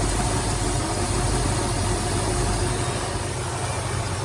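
A 1972 Ford Mustang convertible's engine idling, heard up close by the belts as a steady, even rumble with a constant whirring hum throughout.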